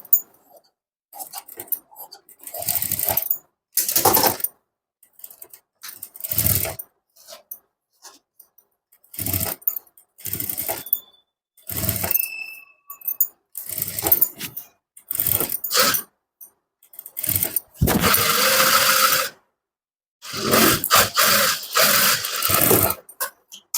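A sewing machine stitches a lined blouse, running in short, irregular bursts of rapid mechanical clatter separated by quiet pauses.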